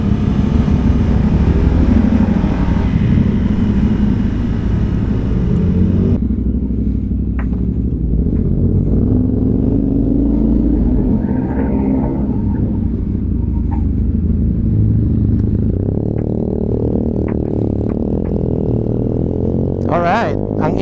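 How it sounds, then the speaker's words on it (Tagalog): Motorcycle engine rumbling steadily while riding a mountain road, a close, continuous low drone with wind, while people talk over it throughout. "Alright, ang ingay ng motor ni Rap."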